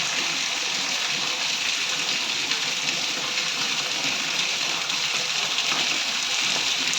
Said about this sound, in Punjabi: ਬਹੁਤ ਜ਼ਿਆਦਾ ਮੀਂਹ